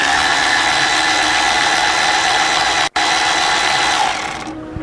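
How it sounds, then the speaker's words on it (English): A quarter-inch electric impact gun loosens bolts on a 4.0 SOHC Ford engine during water pump replacement, a steady loud whirring buzz that cuts out for an instant near the middle, then fades toward the end. "They're not that tight with the quarter inch electric gun."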